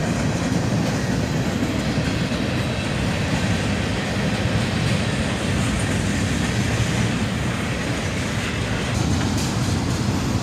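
Freight train of bulkhead flat cars rolling past close by, a continuous loud rumble with rhythmic wheel clatter and no letup across the whole stretch.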